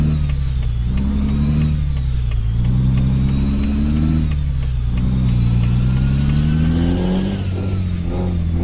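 A heavy truck in Euro Truck Simulator 2 drones loudly and continuously as it slows, its engine pitch falling and rising in waves with brief hissing bursts of the air brakes.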